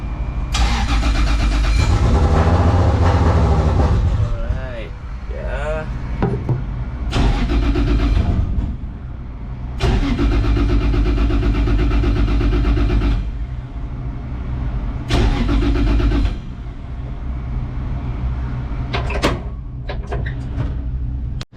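A Toyota GT86 engine cranks repeatedly in long, loud bursts on a weak battery at about 11 volts, turning over with a rhythmic whir and sputter but never catching, with short pauses between attempts.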